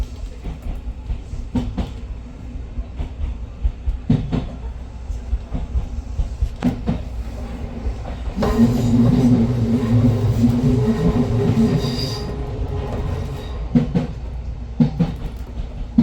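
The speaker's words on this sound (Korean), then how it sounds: "영상에서 느끼시듯 곡선부 소음만 해도 어마어마하죠." Hakone Tozan Railway train wheels grinding and clattering on curved mixed narrow- and standard-gauge track, with a loud squealing screech from about eight to twelve seconds, then rhythmic clicks returning.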